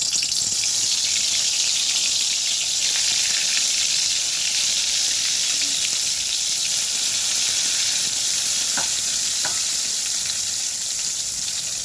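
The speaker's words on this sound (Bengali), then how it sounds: "তো ফোড়ন দেওয়ার আগে কিছু বেগুন ভেজে নিই" Eggplant slices frying in plenty of hot oil in a pan, a loud, close, continuous hiss and sizzle throughout with a couple of faint clicks, and no one speaking.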